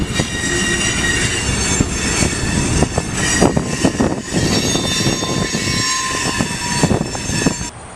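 A rail car shoved back into a rail yard with a crew member riding its side, giving a steady, loud rumble of wheels on track with clanks and faint metallic squeal throughout.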